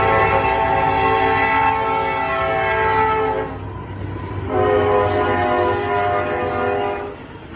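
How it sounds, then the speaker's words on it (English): A Norfolk Southern eastbound frac sand freight train sounds its horn in two long, loud blasts separated by a short gap, over the steady rumble and clatter of the rolling cars. "Next in line would be an NS Eastbound frac sand train, which would be NS60E"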